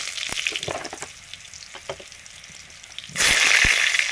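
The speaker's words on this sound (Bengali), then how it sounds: "এই যে লবণ দিয়ে মাংসের আলুগুলো ভেজে নিচ্ছি।" Potatoes for chicken curry fry with salt in a pan, sizzling steadily with scattered stirring scrapes, then turning sharply louder and hissier for the final second, with no speech.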